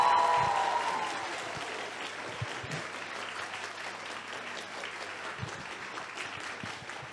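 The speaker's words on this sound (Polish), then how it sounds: "Jeśli mógłbym jeszcze raz prosić o oklaski" Audience applause at a live podcast recording with a journalist guest, steady dense clapping that starts loud and settles to a sustained even patter, with no talk over it.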